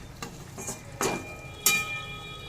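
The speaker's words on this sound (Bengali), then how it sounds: "এই গ্রেভির সাথে ইলিশ মাছগুলোকে একটু উল্টে পাল্টে মিশিয়ে নিচ্ছি।" Hilsa fish that was fried earlier is turned over in a spicy gravy along with its frying oil, for a hilsa biryani. Two distinct spoon scrapes or clinks stand out over a quiet, faint kitchen background.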